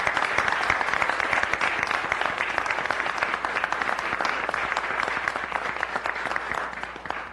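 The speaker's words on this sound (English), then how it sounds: "if we can join in giving them another round of applause" Sustained applause fills a public safety committee meeting honoring a fire department, a steady dense patter of many hands clapping at moderate distance throughout.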